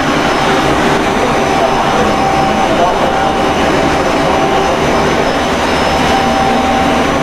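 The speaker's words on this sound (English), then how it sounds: "ambient air is being pulled through the radiator by exhaust fans" A steady, loud roar of rushing air from large exhaust fans pulling air through a radiator on a biochar reactor dryer, constant and unbroken, with a faint whine riding on top.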